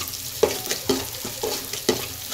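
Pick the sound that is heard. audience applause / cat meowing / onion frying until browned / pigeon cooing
onion frying until browned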